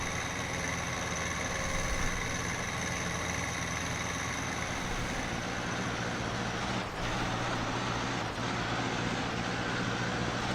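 A tractor engine in Farming Simulator 19 drones steadily as the machine rolls downhill, a constant low hum with faint traffic-like rumble and two brief dips near the end.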